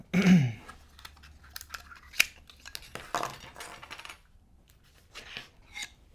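Cutting thin 0.46 mm beading wire, a few sharp snips and metallic clicks scattered over several seconds with quiet handling noise between them.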